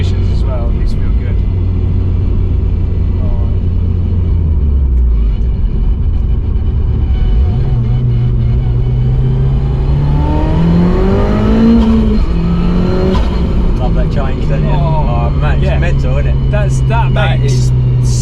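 A 450 BHP Audi TT Quattro Sport engine droning and revving while driving, pitch climbing and falling through gear changes, loud cabin rumble throughout with people talking over it.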